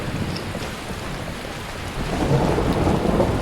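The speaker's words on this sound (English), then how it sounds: "Of course, it's raining like crazy." Steady heavy rain with low rumbling thunder building toward the end, a dense continuous wash of noise with no voices, in the video game Skyrim.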